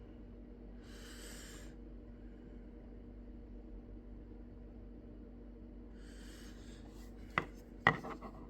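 Spyderco PM2 knife with a Maxamet steel blade sharpened on a cheap 200 grit diamond plate: two gritty rasping strokes spaced apart, quiet and close, then a couple of sharp clicks.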